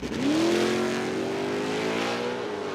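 An LS V8 engine in a modified car at an LS-engine festival revs up and holds a loud, steady high drone with a rising pitch at the start, close by and alone.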